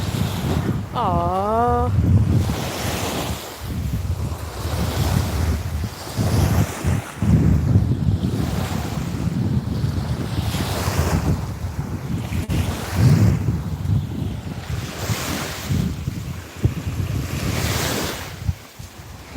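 Ocean waves wash up over beach sand on a coral island, surging in repeated rushes against strong wind buffeting the microphone, with a brief voice or animal call early on.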